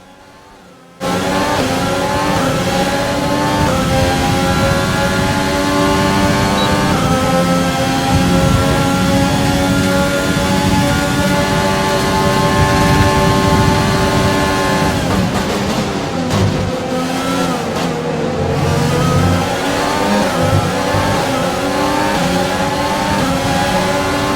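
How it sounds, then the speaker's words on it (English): A Renault Formula 1 engine in the F1 2020 racing game, loud and sustained, screams at high revs through a long corner. The pitch rises and falls with gear changes and there is no talk over it. "listen to the sound of a Renault engine"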